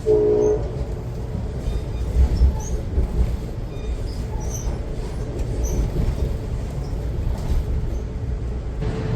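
A train passes on the railway with a continuous loud rumble of wheels and cars, opened by a brief horn blast; no talking.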